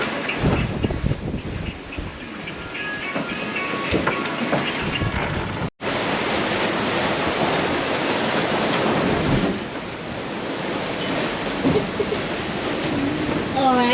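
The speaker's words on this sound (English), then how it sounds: "God, these waves are big." Big ocean waves and strong wind roar on a sailing boat at sea during an overseas passage from Australia to Indonesia, a loud continuous rush with gusts buffeting the microphone and a brief cut midway.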